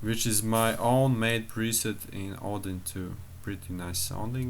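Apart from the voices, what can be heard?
No everyday noises stand out.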